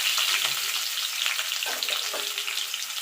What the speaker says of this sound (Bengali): এবার আলুটাকে আমি একটু লাল লাল করে ভেজে নেব